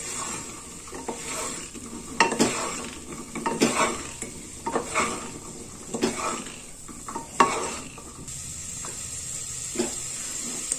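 Carrots, capsicum and cauliflower sauté in a pan over a constant sizzle, broken by repeated scraping and clanking strokes of a spatula against the metal, close and fairly loud, with no talking.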